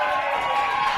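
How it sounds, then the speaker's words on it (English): A wrestling crowd roaring after a slam, a steady dense wash of cheering and shouting held throughout, loud and sustained. "Listen to this crowd."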